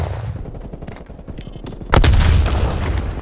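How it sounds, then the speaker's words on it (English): A grenade goes off in Call of Duty Black Ops Cold War during a hardpoint match, a sudden loud, close blast partway through that follows a stretch of scattered gunfire and battlefield din. "Throwing grenade."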